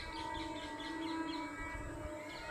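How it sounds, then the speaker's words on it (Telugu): A train runs past somewhere outdoors near a temple, a continuous distant rumble with sustained tonal hum over about two and a half seconds, fairly quiet and steady. "ట్రైన్ వెళ్తుంది"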